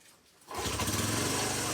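Small engine, freshly fitted with a replacement piston, starts up and settles into a steady, loud, close running drone with a fast regular pulse and no rattle.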